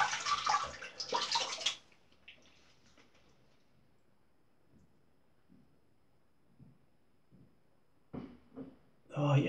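A tap runs in short bursts to rinse off a stainless steel single-edge Prowe razor from Poland, loud splashing water at the start and again near the end, with quiet speech in the gap between.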